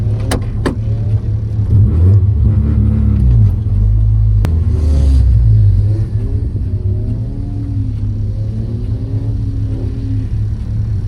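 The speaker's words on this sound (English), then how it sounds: "About to go get in grid and do our first couple of laps out here at Cam's." A Mazda Miata engine rumbles loudly while lapping a track, close and continuous, with revs rising and falling through gear changes.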